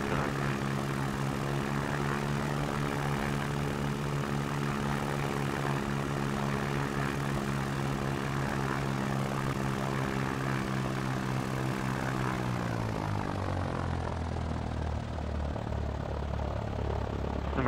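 Light propeller aircraft in X-Plane 11 taking off from runway 31 on a New York VFR tour, a steady droning engine that holds for most of the run and then drops in pitch and fades near the end.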